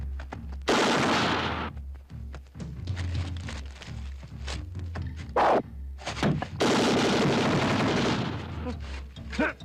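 Guns firing in a comedy film scene, loud dense bursts of rapid shots in long volleys with separate single bangs between them, close and harsh.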